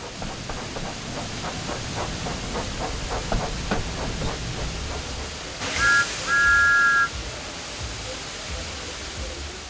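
A brief video-game steam locomotive whistle toots twice, short then longer, over a steady hissing, rumbling chug of an engine, in a Thomas the Tank Engine game.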